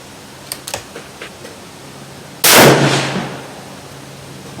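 One loud, close rifle shot from a heavy Seekins Havak Bravo in 6.5 Creedmoor, fired at 25 yards, following a few faint clicks and decaying over about a second.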